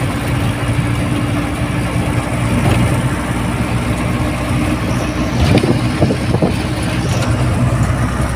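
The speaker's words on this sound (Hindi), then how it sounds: "अरे अपनी गाड़ी चली" A car engine running steadily at close range as the vehicle pulls away, a continuous low rumble with a few louder bumps and rattles near the end, on the way to a lemon orchard.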